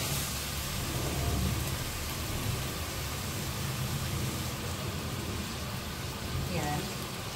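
Water pours steadily into a cooking pot of soy-braised chicken and potatoes, a continuous hissing splash lasting several seconds with a voice speaking over it.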